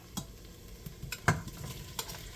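Two ropes of kielbasa browning in a little peanut oil on the stove, a low steady sizzle with a few sharp scrapes and clinks of stirring scattered through, close and alone without talk.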